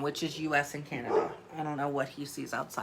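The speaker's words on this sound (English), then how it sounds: "Sorry for the barking." A dog barks repeatedly indoors in short, close bursts, mixed in with a person talking continuously over the noise.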